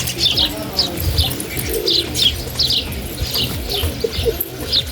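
Shirazi pigeons coo and chirp close by in repeated short calls, with low rumbling coos underneath and light background noise throughout.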